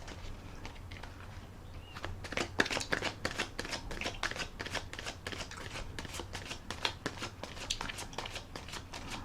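Rapid crisp riffling of a tarot card deck, repeated flicks and snaps in steady bursts, close by with no talking.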